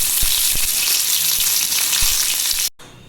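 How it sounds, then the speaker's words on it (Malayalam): Curry leaves frying in hot oil for aval mixture, a loud close crackling sizzle with a few sharp pops and stirring scrapes, ending abruptly after under three seconds. "ഇനി ഇതിലേക്ക് കുറച്ച് കറിവേപ്പിലയും ഇട്ട് കൊടുക്കാം. ഇതും ഒന്ന് ഫ്രൈ ആയി വരണം."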